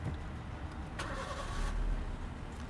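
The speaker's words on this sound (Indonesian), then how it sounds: "Oke, coba kita starter ya." A 2012 Suzuki Splash with manual gearbox cranks and catches, its engine settling into a steady, smooth idle close by in a quiet interior.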